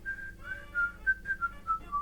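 A person whistles a tune alone, a short run of about eight clear, close melodic notes with small gaps between them, imitating the song from a horror film.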